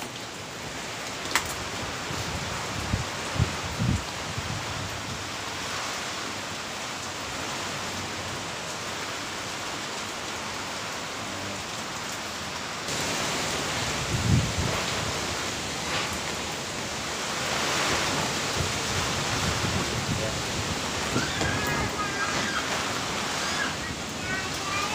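Strong typhoon wind in Cavite, Philippines roars and buffets continuously, a dense rushing noise that swells louder partway through, with occasional gusty thumps.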